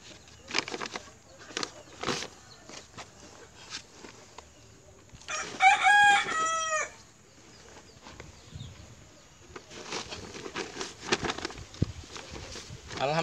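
Chickens on a rural Indonesian homestead, with a rooster giving one loud, clear crow mid-clip amid scattered clucks and bird calls over faint background noise.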